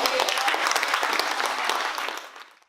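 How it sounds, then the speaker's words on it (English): A crowd gives a full round of applause, dense and steady clapping with a few cheers that fades out over the final half second. "So you guys, just give them a round of applause."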